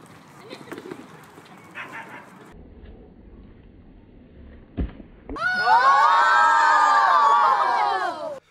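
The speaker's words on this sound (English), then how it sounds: "We had them cheer Mohammed after one last flip" A group of children bursts into loud, sustained cheering and whooping after a last flip, following a stretch of quieter chatter and a sharp thump.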